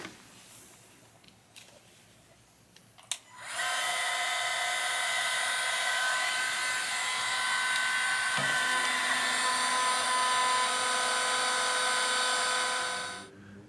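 A hair dryer, apparently on a no-heat setting, thaws a frozen BMW F800GT motorcycle engine, switching on after a brief clatter and blowing as a loud, steady whining roar for about ten seconds before cutting off.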